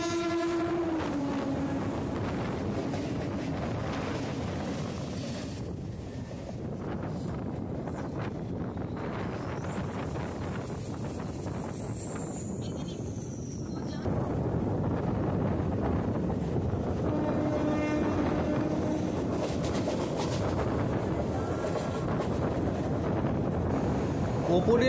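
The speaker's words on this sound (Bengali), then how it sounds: "সামনে থেকে আসছে খড়গপুরের দিকে যাওয়া একটি মেমু লোকাল।" A MEMU local train bound for Kharagpur passes on the Howrah–Midnapore line with loud rumbling wheels, rolling clatter and wind buffeting, plus a rising horn whistle midway; a voice talks over it.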